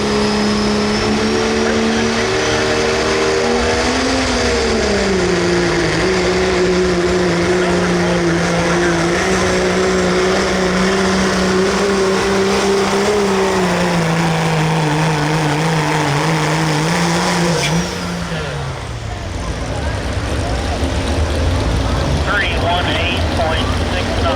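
Dodge diesel pickup in the pro street diesel class at a Sedalia, Missouri truck and tractor pull, engine roaring loud and steady with rising and falling pitch as it pulls, an announcer talking over it.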